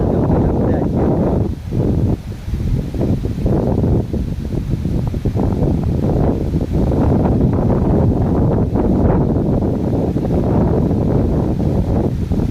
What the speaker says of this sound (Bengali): এত জোর হাওয়া বইছে